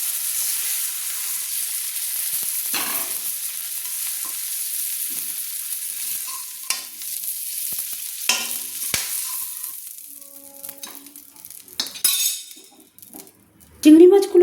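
Prawns fry in a wok with a hissing sizzle, which fades into quieter stretches broken by scraping stirs and sharp clinks of a spoon against the pan, heard up close.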